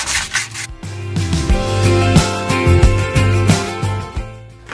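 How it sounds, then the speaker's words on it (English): Wood is sanded by hand in rapid back-and-forth strokes, a close, raspy rubbing that continues without a break. "I'm going to just give it a sanding, smooth it all out."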